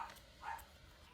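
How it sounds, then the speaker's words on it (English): A dog barks indoors, a few short, faint yelps in quick succession at a distance. "My dog's barking again."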